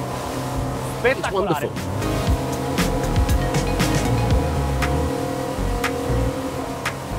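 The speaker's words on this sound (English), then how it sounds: "Plus, listen to how they roar." Twin engines of a Scanner 1200 HT FB maxi RIB roar steadily as the boat runs at speed over calm water, a loud continuous drone with wind and spray, and someone speaks briefly over it.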